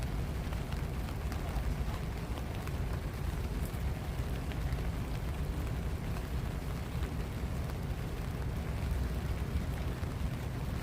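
Steady rain falls outdoors in a city street, a continuous even hiss of drops with no breaks and no voices.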